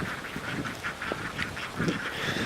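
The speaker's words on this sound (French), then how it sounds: "Il y a des oies là." Geese honking and quacking in a rice paddy in Bali, a steady run of repeated nasal calls from several birds at moderate distance over outdoor ambience.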